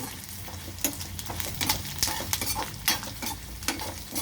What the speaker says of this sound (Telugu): అలాగే ఉంచేస్తే అల్లం కొంచెం మంచిగా వేగుతుంది